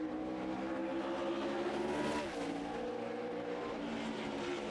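The number 23 Aaron's Dream Machine stock car makes a loud sustained engine roar during a 2009 Nationwide Series qualifying lap at Bristol, with a brief dip and shift in pitch midway.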